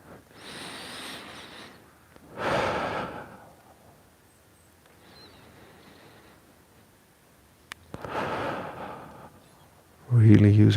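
Deep diaphragm breaths from a morning mobility and kettlebell routine, with several long, airy inhales and exhales separated by quiet pauses and close to the microphone, followed by a sharp thump at the end.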